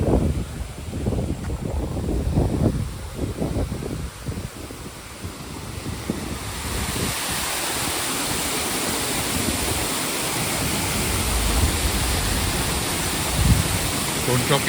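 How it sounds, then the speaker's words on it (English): Waterfall in a town street lined with antique shops, a steady broadband rush that swells to a full, continuous roar, with scattered footsteps and street sounds in the first few seconds. "Cross over and have a look at the waterfall here"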